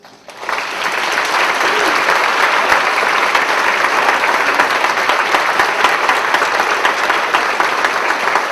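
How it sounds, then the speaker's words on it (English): A conference audience at a closing session applauds the Young Marines, a loud, dense and sustained wash of clapping that swells up quickly and holds steady throughout. "Round of applause for them."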